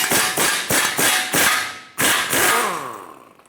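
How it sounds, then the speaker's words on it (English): A hammer strikes the side of a steering knuckle on a Ford E-350 Super Duty in a quick run of about seven sharp, loud taps with brief ringing between blows, close by. "Now use a hammer, tap the side of the knuckle"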